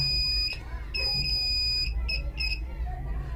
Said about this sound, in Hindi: ये कैपेसिटर पे आपका जो है ना दोनों साइड बीप आ रहा है